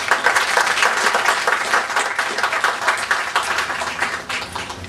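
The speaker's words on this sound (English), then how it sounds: "Please give them a round of applause." A theatre audience applauds steadily at a charity event for the staff, board and volunteers of Tender Mercies, a dense even clapping that carries on for about five seconds.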